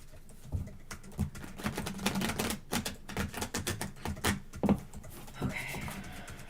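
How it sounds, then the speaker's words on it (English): Slightly stiff tarot cards are shuffled in quick, crisp riffling bursts, a rapid papery flutter repeated several times, with a voice speaking over it. "One more shuffle."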